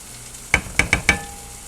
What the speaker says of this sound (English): I'm going to add some more butter in that one.